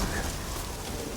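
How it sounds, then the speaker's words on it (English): Steady rain falls in The Witcher 3: Wild Hunt, a dense, even hiss of drops that holds at the same level throughout without any breaks. "Looks like rain."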